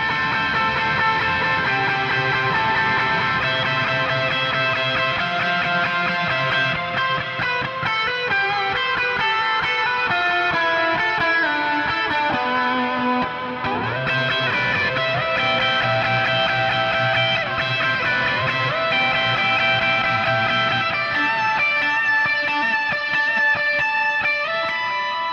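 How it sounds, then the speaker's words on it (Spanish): An electric guitar plays a sustained solo through heavy overdrive with reverb and delay, a continuous, even run of singing distorted notes with no talking over it. "En este caso tenemos obviamente un overdrive más potente, lo mismo reverb y delay"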